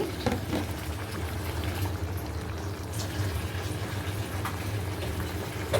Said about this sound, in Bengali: এবার লাউ আর মুরগি আমি একসাথে দিয়ে দিচ্ছি